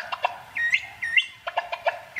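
Humpback whale song sped up and raised in pitch: fast, high chirps and quick rising whistles tumble together in a rapid, bird-like sequence, clear and close.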